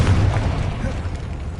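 The Confringo explosion spell in Hogwarts Legacy, a single heavy, close boom with a rumbling tail, mixed with a voice.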